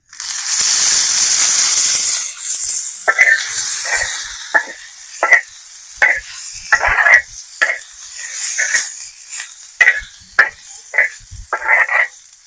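Small bitter gourds frying in oil over a high flame, a loud sizzling hiss at first that gives way to irregular bursts of crackling and spattering.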